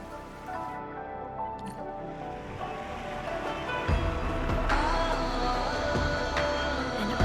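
Powered raft moving through an underground water channel in Arknights Endfield: a steady rushing wash of water with a low churning rumble that swells slightly louder toward the end, without speech.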